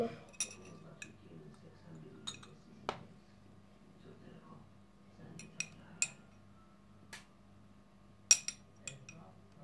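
A teaspoon clinks and scrapes in a bowl while homemade slime is stirred, scattered light metallic ticks at irregular intervals, close and quiet, with faint talk in the background.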